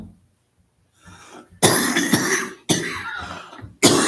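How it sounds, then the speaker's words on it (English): Several people cough in a quiet committee meeting room, a few harsh coughs and throat clearings following one another after a silent start, fairly close and loud. "Everybody's coughing now."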